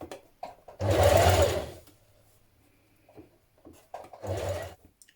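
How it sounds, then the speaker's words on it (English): A sewing machine stitches down binding at the back neck of a dress, a short loud burst of running stitches, then quiet fabric handling, then a second brief burst near the end. "Now stitch down the binding at the back neck of your dress."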